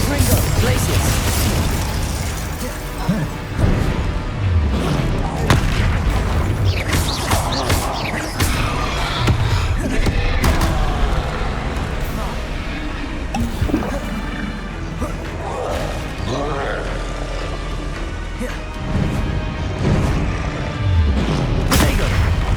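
Spell blasts in Hogwarts Legacy combat: a dense, loud barrage of booming impacts, crashes and bursts over a constant game soundscape, with someone talking throughout.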